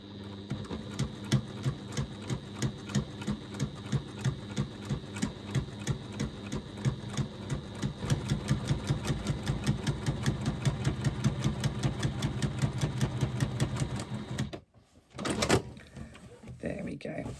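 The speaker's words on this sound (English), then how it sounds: "So stitching on both sides." Sewing machine stitching both sides of a fabric pouch, a rapid rhythmic clatter running continuously, then stopping with a brief thump and short mechanical sounds afterward.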